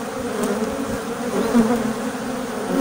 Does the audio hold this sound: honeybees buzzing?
yes